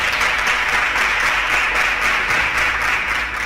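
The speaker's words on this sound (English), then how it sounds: "Please a round of applause for all of them" A studio audience applauds quiz contestants on an educational quiz show, a steady, dense wash of clapping held evenly loud throughout without a break.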